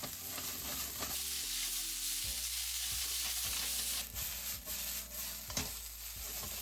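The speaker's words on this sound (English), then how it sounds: "add the bean sprouts. Stir frying it over high heat as well." Bean sprouts stir-fried over high heat for a Japanese lamb Jingisukan dish, a loud steady sizzle with scraping and stirring strokes of the utensil against the pan, no voices.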